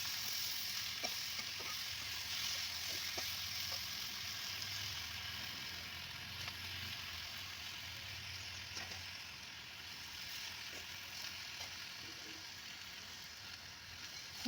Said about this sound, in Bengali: সবজি আর চিংড়ি মাছ একসঙ্গে কষে পালং শাক দিয়ে দিলাম